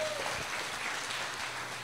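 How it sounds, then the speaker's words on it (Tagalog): A church congregation applauds during a sermon, a steady wash of clapping filling the room for a couple of seconds at moderate distance. "Come on, palakpakan natin si Lord."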